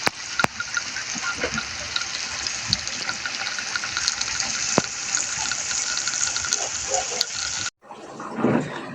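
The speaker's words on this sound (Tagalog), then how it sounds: "Atin na iprito ang tofu or tokwa." Tofu (tokwa) frying in a pan, a loud, bright, continuous sizzle with scattered pops that cuts off abruptly near the end, leaving a brief quieter rustle.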